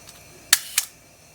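Two quick, sharp mechanical clicks close together, the film advance lever of a Canon Canonet camera being wound, metallic ratcheting heard up close in a quiet room.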